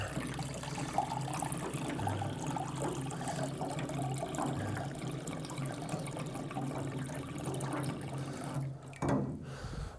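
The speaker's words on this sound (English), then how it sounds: "So we're going to start with getting a bit of water." Reverse osmosis water runs and splashes steadily for several seconds, a continuous trickling pour into cups that ends with a short clunk near the end.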